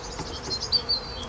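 Honey bees buzz around an opened hive during an early-spring inspection, a faint, wavering drone with a few brief closer passes rising briefly above the low background.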